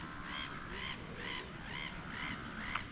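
Ducks and geese calling on a lake in a Nottinghamshire parkland, a steady run of repeated quacking and honking calls at moderate distance over a broad outdoor background, with no talk.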